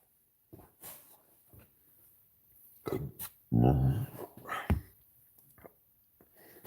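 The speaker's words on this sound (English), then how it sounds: "I would let the dog in. She's crying." A dog whimpers and whines in short, breathy bursts with a louder yelp in the middle, fairly close, against a quiet background.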